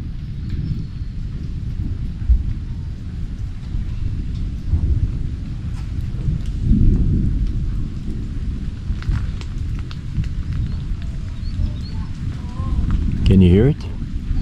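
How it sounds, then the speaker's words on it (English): Deep thunder rumbles through a rainstorm at Mayan ruins in Belize, with low rolling swells over steady rain and wind buffeting, and a voice speaking at times. "Listen to the thunder."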